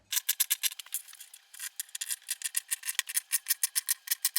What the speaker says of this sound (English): Okay, let's pin and cut.